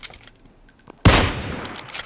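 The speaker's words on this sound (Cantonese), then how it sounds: "有槍聲，橋嗰邊有槍聲。" A sudden loud burst of gunfire in PUBG comes in about halfway through after a quiet start, then fades out over the next second.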